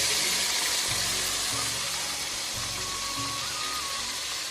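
Masala for chicken dum biryani sizzles loudly in very hot oil, a dense continuous frying hiss with a few soft low thumps beneath it.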